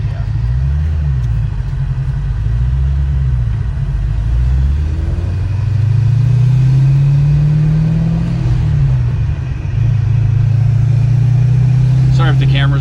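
A C6 Corvette engine with leaking fuel injectors rumbles steadily while driving, rising and falling slightly with speed, close and loud throughout.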